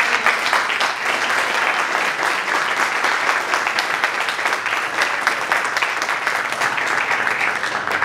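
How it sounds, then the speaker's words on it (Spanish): Sustained audience applause for student delegates at a school Model UN ceremony, steady and fairly loud dense clapping throughout with no break. "Y un aplauso para ellos."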